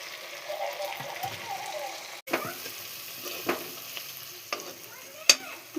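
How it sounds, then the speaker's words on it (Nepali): Spices being stirred into frying chicken gravy with ginger-garlic paste, giving a low steady sizzle with a few sharp scraping clicks of the spoon against the pan, near and moderately quiet. "त अब हामी मिलाउनेछु मसला।"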